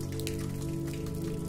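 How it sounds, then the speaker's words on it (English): Soft rain falls over a village, a steady gentle patter with a faint continuous hiss, even and unbroken, with no voices. "The rain, now a soft murmur,"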